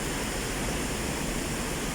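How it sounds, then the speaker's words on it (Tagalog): Very heavy rain pours down in Metro Manila, a dense, constant roaring hiss with no gaps and no voices over it. "tingnan nyo naman guys napakalakas ng ulan grabe"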